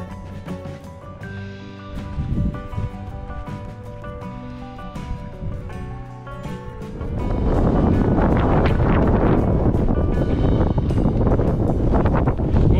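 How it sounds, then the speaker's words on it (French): Steady wind buffeting the microphone on a coastal hiking trail in Brittany, France, rising to a loud, constant roar about halfway through, with faint tonal background sounds early on. "C'est sympa, beaucoup de vent aujourd'hui"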